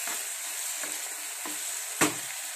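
Ridge gourd curry with amchur powder being stirred in a pan, a soft sizzling hiss under a few spaced scrapes of a spoon and one sharper clank near the end, close and fairly quiet.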